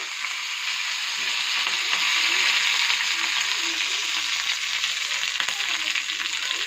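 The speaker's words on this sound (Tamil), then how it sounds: "எண்ணெயில் கடுகு நல்லா வே இப்போ கடுகாப்பில் போட்டேன்" Mustard seeds sizzle in hot oil for tomato chutney, a steady, close frying hiss with light popping crackles throughout.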